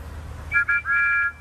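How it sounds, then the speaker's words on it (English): Toy steam engine whistle from Thomas the Tank Engine, giving two short toots followed by a longer sustained tone, bright and fairly loud over a low background hum. "Together, Thomas and Percy happily tooted their best friend's whistle"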